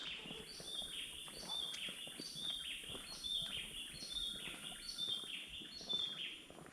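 Orange sparrows chirping in a Costa Rican rainforest, a faint, repeated high chirp returning about once a second over a steady hiss of forest insects and distant ambience.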